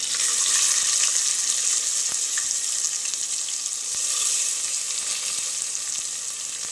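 Steady, bright sizzling of chopped onions frying in hot oil, continuous and close, with a few faint clicks and stirring sounds underneath.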